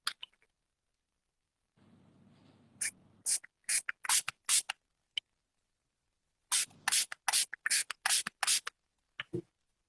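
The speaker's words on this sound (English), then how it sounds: "spray water on this hand and spray water on the untreated hand as well" A handheld spray bottle mists water onto both hands, one treated with a night repair serum and one untreated, in a few close, crisp hissing bursts: one short group, then a quick run of bursts.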